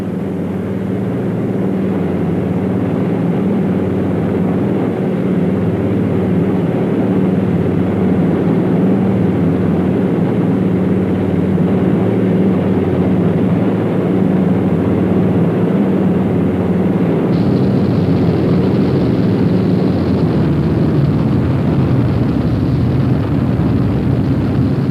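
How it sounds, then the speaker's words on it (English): Douglas DC-3 and Lockheed Lodestar piston-engine aircraft in flight for a parachuting drop, a steady loud droning engine roar that continues throughout with a slight shift in tone late on, no voices. "The 2 DC-3s take off first, leaving the Lodestar to follow 5 minutes later."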